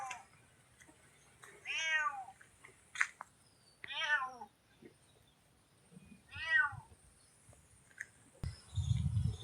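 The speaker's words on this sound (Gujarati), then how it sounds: "અહીંયા જો અમારા બિલ્લી બેન આવી ગયા" A domestic cat meows close by, three drawn-out meows spaced a couple of seconds apart, with light clicks and background rustle between them and no talking.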